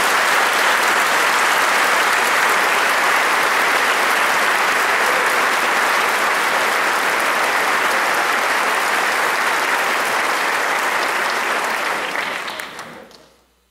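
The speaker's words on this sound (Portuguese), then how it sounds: "a qual eu quero com muito carinho saudar a vocês, com uma calorosa salva de palmas que merece." A church congregation gives a warm, sustained round of applause after a priest's homily, dense crowded clapping holding steady at full strength for a long stretch before trailing off quickly at the end.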